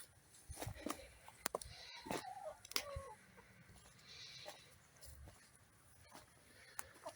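Hens cluck and call softly in their outdoor run, scattered short clucks and a few sharper squawks over a quiet background, some near and some farther off.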